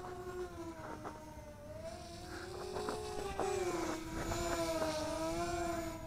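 An Eachine E500 Mirage VTOL RC airplane descends vertically, its motors giving a steady close whine that wavers in pitch as it yaws into the wind, with wind rumble underneath throughout.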